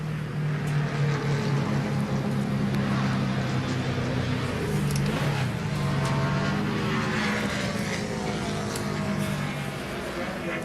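A NASCAR Sprint Cup car, driven by Jeff Green, laps the track at Loudon, New Hampshire, during practice and qualifying for the Sylvania 300. Its engine gives a steady, loud droning roar that holds for the whole stretch, with no talking.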